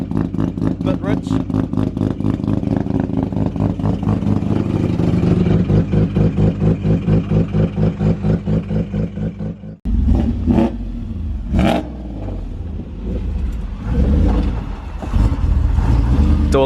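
Mazda FD RX7 with a bridgeported rotary engine running at first start-up, a loud choppy rapid-pulsing idle, then a cut and sharp revving blips, close and raw.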